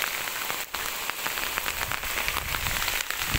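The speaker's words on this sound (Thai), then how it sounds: "ฝนตกนะครับอยากให้ทุกคนได้เห็นได้สัมผัส" Heavy rain pours steadily over a sugarcane field, a dense, continuous hiss of drops striking leaves and ground, close and loud throughout, with no voices.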